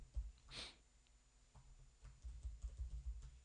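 Light typing on a computer keyboard during a login entry, faint close clicks in an irregular cluster with a brief sniff early on.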